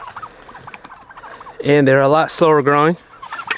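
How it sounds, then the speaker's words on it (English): Heritage breed turkeys gobbling in two loud, clustered bursts, close by, with someone talking quietly before and after the calls. "Now these turkeys, these heritage breed turkeys, we have 6 of them, they are not ready."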